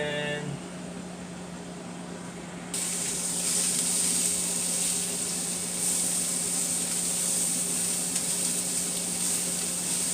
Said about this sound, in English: got that sausage going.